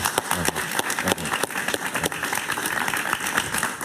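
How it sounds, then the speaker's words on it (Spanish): A studio audience at a talk show gives a sustained round of applause, dense clapping that carries steadily throughout at a moderate, even level. "Un aplauso para Javier Larrón"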